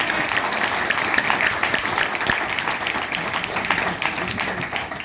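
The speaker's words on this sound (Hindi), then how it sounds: "इतना बढ़िया काम यार, तालियां तो बनती है।" A crowd applauding at a paint training gathering, a dense, steady burst of many hands clapping together, sustained and fairly loud throughout.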